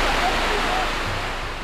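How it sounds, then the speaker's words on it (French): Steady broadband rush of a waterfall in the French Alps near Saint-André-les-Alpes, a constant, fairly loud roar of falling water with no clear breaks. "sa belle cascade."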